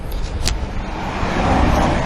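A car passes close by on a busy road, a loud broad whoosh of engine and tyre rumble that builds steadily, with steady traffic noise underneath.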